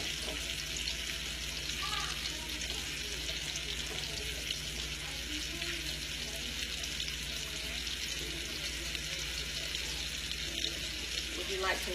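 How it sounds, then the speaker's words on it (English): Scallops fry in a pan with a steady, dense sizzle that holds evenly for the whole stretch, close and continuous, while a voice speaks faintly underneath. "Alright, those scallops are cooking up good there."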